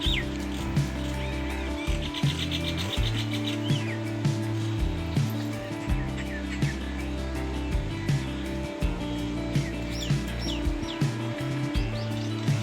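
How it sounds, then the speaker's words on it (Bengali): Many common myna birds chirping and calling from a tree, a busy overlapping chorus of sharp calls above a low steady hum. "আপনারা দেখতে পাচ্ছেন কিছু শালিক পাখি"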